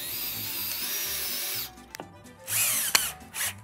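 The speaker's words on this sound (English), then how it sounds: "When I tighten this screw, I wanna go all the way down and then back it out a little bit" A power drill drives a 2.25 inch screw into wood in a loud, steady whir for over a second, then stops, followed by a few short bursts as the screw is backed out and retightened.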